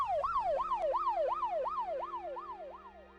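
A police car siren wails, sweeping up and down in a fast repeating rise and fall, gradually fading and dropping slightly in pitch as the car passes and moves away.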